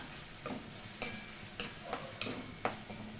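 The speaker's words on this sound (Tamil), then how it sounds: "ஒரு அஞ்சு நிமிஷம் நம்ம அப்படியே நல்லா வதக்கி விட்டுறலாம்" A banana ball mixture shallow-fried and stirred in a pan, soft sizzling underneath while a utensil scrapes and taps the pan in about five distinct knocks at an irregular rhythm.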